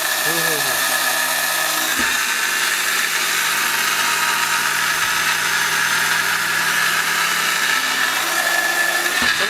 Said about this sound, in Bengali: এই যে তিনেতে দিয়ে দিলাম হাই স্পিডে দিয়ে দেবেন